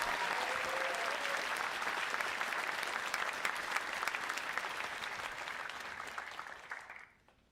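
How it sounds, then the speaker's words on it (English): Audience at the 2024 MIT Mystery Hunt closing ceremony breaks into loud, sustained applause filling the room, holding steady for several seconds before fading out abruptly at the end. "may I get a big round of applause for our events coordinator"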